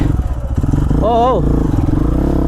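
An off-road motorcycle climbing a steep dirt trail, its engine pulsing loud and close while a voice calls out briefly in the middle.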